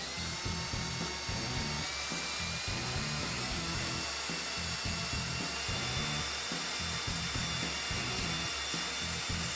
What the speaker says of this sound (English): All I'm going to have to do is drill one other hole